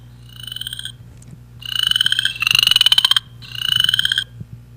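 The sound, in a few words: chorus frog calls, played recording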